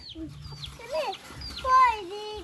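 Chickens clucking and calling near a rural home, several short rising and falling squawks and clucks in quick irregular bursts, fairly close, with a louder call near the end.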